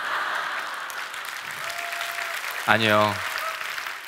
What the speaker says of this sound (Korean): 그렇게 박수 치시면 안 되고